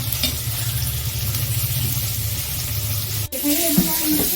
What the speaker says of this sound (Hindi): तो टमाटर डाल के इसको चला देंगे हम बढ़िया से